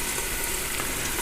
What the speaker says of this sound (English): Sear it up a little bit.